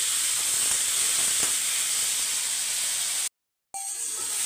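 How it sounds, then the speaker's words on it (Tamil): Two tomatoes sauté with onions in a pan for a jackfruit mutton curry, giving a steady close hiss and sizzle that runs evenly, then breaks off briefly before resuming more quietly. "ஒரு 2 தக்காளி, இப்போ இது ஒரு பக்கம் வதங்கட்டும்"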